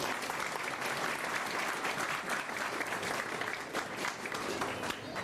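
Continuous audience applause at a 1998 park grand opening ceremony, a dense, even patter of many hands heard from a short distance, with a faint voice underneath.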